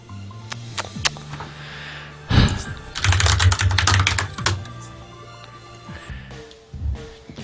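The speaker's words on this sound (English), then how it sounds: "Keyboard is always so loud." Rapid clattering keystrokes on a computer keyboard, coming in bursts with short pauses, close and fairly loud, with a dull thump partway through.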